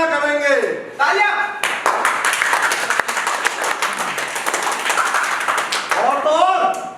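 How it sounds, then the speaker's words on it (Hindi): Theatre audience applause during a stage play, a dense burst of loud clapping lasting several seconds, framed by someone speaking before and after. "तालियां।"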